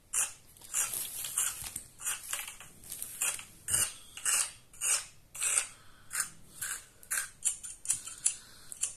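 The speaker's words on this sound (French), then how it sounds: "là on est retourné sur les ciseaux." Rapid, irregular snipping of hairdresser's scissors cutting hair close by, many quick crisp cuts in a busy rhythm with no voices.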